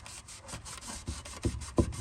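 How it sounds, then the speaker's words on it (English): A rag rubs and wipes over a Ford Ranger or Explorer 4R44E/5R44E transmission oil pan during a fluid and filter service, giving close, repeated rhythmic rubbing strokes that grow a little louder toward the end. "All I'm doing is just wiping it down, cleaning it up"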